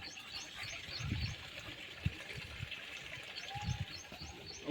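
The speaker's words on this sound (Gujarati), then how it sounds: "આ જીના ઝરણા પડી રહ્યા છે" Water from a small spring waterfall trickles and splashes in a steady, fairly faint wash, with occasional soft knocks and a few distant bird calls over it.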